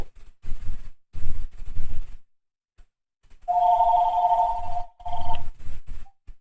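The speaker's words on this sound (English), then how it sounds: "And the phone's ringing." A telephone rings in a home, a steady electronic tone sounding in two bursts, interleaved with bursts of nearby speech before and after.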